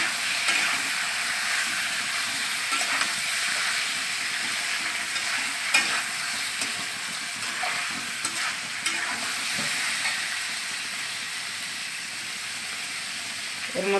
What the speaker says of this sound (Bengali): পেঁয়াজটা লাল লাল করে ভেজে নিতে হবে এই মাংসটার জন্য,